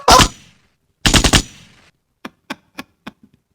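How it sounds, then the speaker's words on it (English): Gunshot sound effects ring out: two loud bursts of rapid firing, the second a quick cluster, followed by four sharp single cracks and a couple of fainter trailing pops. "I give a gunshot to that."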